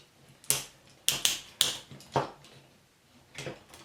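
A 2001 Transformers Robots in Disguise Megatron toy has its leg folded, and the ratchet joints give about six sharp plastic clicks at uneven intervals, close and distinct against near silence.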